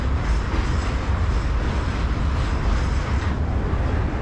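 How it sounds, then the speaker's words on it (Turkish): A long passenger train in Ukraine rumbling steadily past at close range, a continuous loud roar of wheels on rails with faint clattering throughout. "Şu ana kadar gördüğüm en uzun tren."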